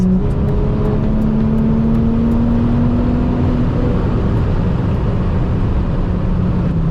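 A new Nissan Z accelerates hard at wide open throttle on an open canyon road, with a loud, steady engine drone and road roar filling the whole stretch, heard from inside the car with no talking.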